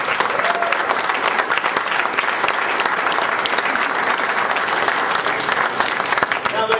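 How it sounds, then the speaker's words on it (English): A large audience at a West Point cadet boxing demonstration gives loud, sustained applause, dense overlapping clapping that stays at a constant roar for the whole stretch. "Let's give them a big round of applause."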